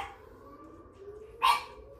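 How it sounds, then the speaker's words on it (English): A single short pug bark rings out near the end, close and fairly loud, after a quiet stretch with faint background hum. "Apparently, he just barks."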